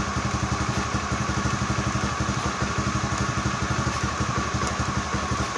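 A carbureted Honda Beat scooter engine idles close by, a steady, even putter of rapid firing pulses with a light mechanical clatter, continuous and unchanging throughout.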